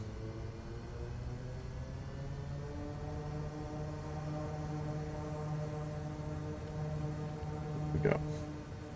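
A bush plane's propeller engine in MS Flight Simulator drones steadily as torque builds for takeoff, a continuous hum with a steady tone that holds throughout, with no talk over it.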